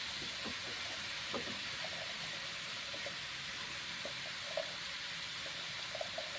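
Cooked chicken giblets stir-fried in a pan: a steady, broad sizzle and hiss runs throughout, with small scattered clinks and pops over it and no talking.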